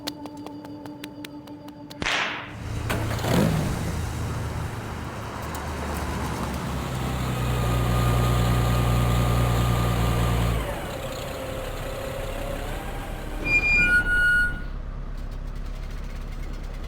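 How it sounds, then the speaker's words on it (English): A car engine cranks over and catches, then settles into a steady running drone that swells and eases for several seconds, heard fairly close with other faint background noises. "Start the car."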